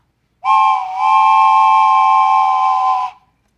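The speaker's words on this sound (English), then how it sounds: "Of course, there's a train whistle" A small hand-held train whistle is blown once, giving a loud, steady, chord-like tone that lasts close to three seconds and then cuts off cleanly into silence.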